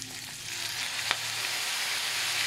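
Chicken pieces browning in a hot pan for spicy Texas-style adobo, giving a steady, dense sizzle with a faint scrape of stirring partway through.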